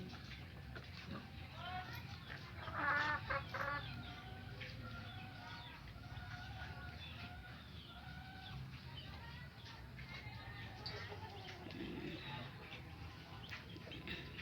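Chickens cluck softly and continuously while feeding, with a brief louder burst of clucking early on, against a low steady background.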